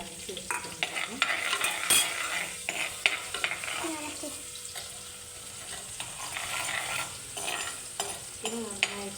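Ginger garlic paste fries in hot oil for a fish curry, a steady close sizzle broken by frequent scraping stirs and light metal clinks throughout, with no voices.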